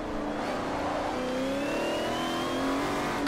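A race car engine in Forza Motorsport 4 revs steadily upward through a gear, a loud, close, continuous whine that climbs in pitch over three seconds, with no talk.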